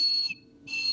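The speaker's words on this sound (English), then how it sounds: "This is that little whistle that I made" A handmade ceramic water whistle gives two bright, warbling blasts close up, with a short silent pause between them and no talking.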